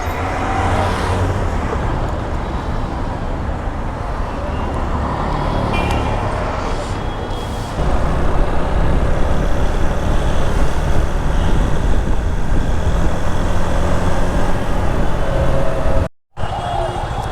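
Riding a motorbike through Dhaka traffic makes a loud, steady wash of wind buffeting and road and engine rumble. The noise runs close and unbroken, with other traffic blended in and one brief dropout near the end.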